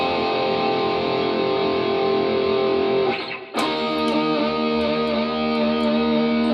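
Distorted electric guitar plays a sustained riff from a song as a lesson demonstration, with a ringing chord, a brief break near the middle, then a strummed restart continuing steadily.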